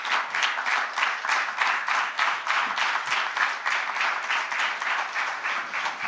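Sustained audience applause fills the room after a motivational talk at a real estate industry event, dense rhythmic clapping from many hands holding steady and loud throughout with no talk over it.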